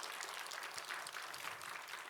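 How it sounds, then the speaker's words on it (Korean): A church congregation applauds in a dense, even patter of many hands that holds steady for a couple of seconds, faint and somewhat distant. "영광의 박수 한번 드리겠습니다"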